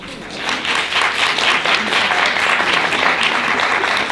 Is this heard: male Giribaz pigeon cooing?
no